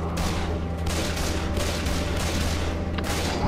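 Continuous gunfire from a Left 4 Dead co-op session, a dense rapid fusillade of shots running steadily the whole time at a loud, even level.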